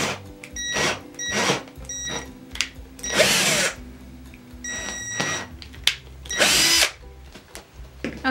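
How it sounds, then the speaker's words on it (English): A power drill with a larger bit enlarges holes in an old butcher block, whirring in repeated short bursts, spinning up and biting through several times, close by with a steady high whine between pauses. "I'm grabbing a larger drill bit, and I'm just gonna make these holes bigger"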